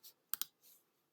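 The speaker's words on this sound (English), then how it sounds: "which you type into your calculator" Calculator buttons are pressed nearby: a soft tap, two crisp clicks in quick succession, then another muted press, all in a quiet room.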